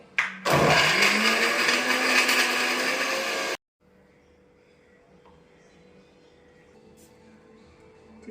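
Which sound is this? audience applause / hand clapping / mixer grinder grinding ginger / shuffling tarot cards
mixer grinder grinding ginger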